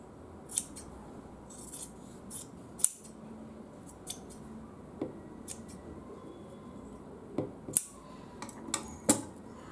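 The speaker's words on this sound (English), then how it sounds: "After stitching, you can cut margin little bit." Scissors snip the seam margin of fabric on a women's waistcoat after stitching, with a series of crisp, close, irregular cuts separated by pauses over a quiet background.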